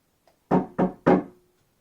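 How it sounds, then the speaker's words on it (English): Three firm knocks on a wooden door, close and distinct, in quick succession against silence. "there was a knock at the door"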